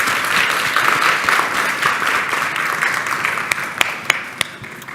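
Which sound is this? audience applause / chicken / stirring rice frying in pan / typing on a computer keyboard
audience applause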